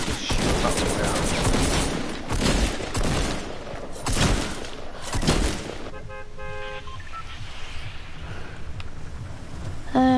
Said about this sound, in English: Let me just shoot up the ground.